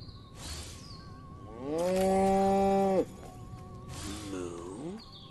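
A cow in the game Destroy All Humans gives a loud, drawn-out moo of about a second and a half, followed by a shorter, lower moo, with other game sounds in the background.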